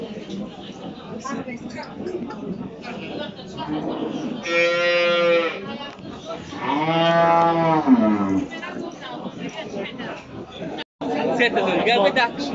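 Several loud, drawn-out cattle moos, from dairy cows and bulls at a livestock market in Bokhtar, Tajikistan, rise over a busy crowd chattering nearby, with people talking throughout.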